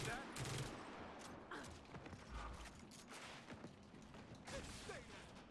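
Gunfire in the shooter Gears of War 4 sounds as a quiet, ragged series of bursts and sharp cracks over several seconds, faint in the mix with scattered mechanical clatter.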